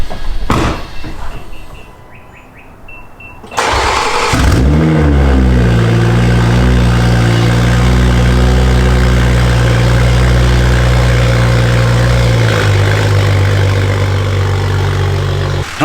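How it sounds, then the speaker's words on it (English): Car cold start through a loud ETS turndown exhaust pipe in an enclosed garage: a few clicks and a cranking whir, then the engine catches with a sharp flare and settles into a deep, booming, steady idle that drops slightly near the end. "last cold start with this system on"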